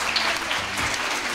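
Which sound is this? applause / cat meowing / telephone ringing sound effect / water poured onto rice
applause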